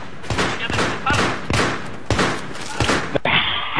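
Gunfire in the video game Battlefield 3 sounds as rapid, loud, close bursts of automatic shots in quick succession, followed by a sharp blast.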